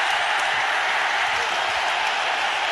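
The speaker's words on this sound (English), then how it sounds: "And just listen to the crowd." A large cricket crowd in India roars and applauds after a bowled wicket, a dense, loud, continuous wash of cheering with no single voices standing out.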